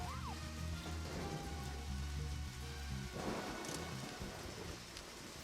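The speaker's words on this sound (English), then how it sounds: "Rain really matters in this game" Steady rain pours down with rumbling thunder underneath in the video game Deadly Premonition: The Director's Cut, a dense continuous hiss with a heavier gust of rainfall partway through.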